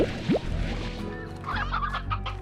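Video game chickens cluck and squawk in quick bursts over a steady low background hum, with a rising call near the start.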